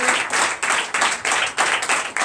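A church congregation at a Sunday service claps loudly and together in a fast, even rhythm, close and dense, with bursts rising and falling in quick waves.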